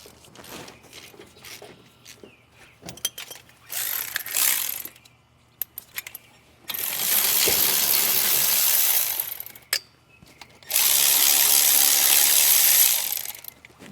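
A ratchet works loose the brake caliper bolts on a Ford Ranger, with scattered close metallic clicks and taps, then two long, steady, hissing bursts of several seconds each.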